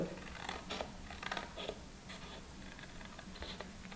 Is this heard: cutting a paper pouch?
yes